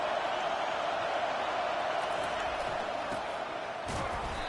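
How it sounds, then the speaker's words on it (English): A large crowd at an Ole Miss vs Alabama college football game roars steadily in the stadium, a dense continuous wash of cheering and noise that stays loud throughout, with no clear talk on top. "It is getting loud as this crowd tries to help its defense."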